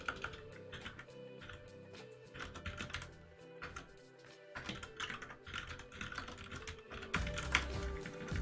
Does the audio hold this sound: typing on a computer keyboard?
yes